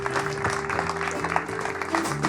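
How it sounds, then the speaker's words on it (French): Audience clapping for participants at a live show, moderate applause beneath a steady musical tone or hum, with scattered sharper claps. "On peut les applaudir bien fort parce qu'ils ont participé."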